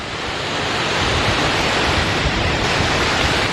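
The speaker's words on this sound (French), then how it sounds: "Hop, une belle cascade." A large mountain waterfall on a Pyrenees hiking trail, a dense, steady roar of rushing water that swells slightly at the start and then holds loud and unbroken, with no talk.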